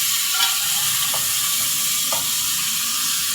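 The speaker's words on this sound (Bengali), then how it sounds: "এখন আমি ভেজে রাখা চিংড়ি মাছগুলোকেও দিয়ে দিচ্ছি।" Fried shrimp go into a pan of okra and potatoes, making a steady loud sizzle with a few faint taps of a utensil.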